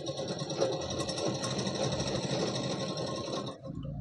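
A sewing machine stitches trouser legs in a tailoring class, running close and loud with a fast, steady mechanical whir and needle chatter that stops near the end.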